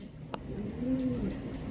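A pigeon or dove gives a single soft coo, faint against a quiet outdoor background, with a brief click just before it.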